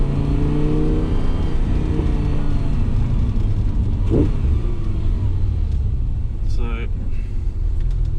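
An Audi R8 V10 hums steadily while driving, a deep continuous engine drone with a low rumble throughout, and someone talks briefly over it.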